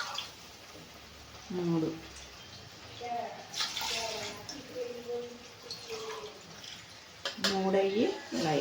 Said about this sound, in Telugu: ఇప్పుడు కొబ్బరి పాలు యాడ్ చేసేయాలన్నమాట.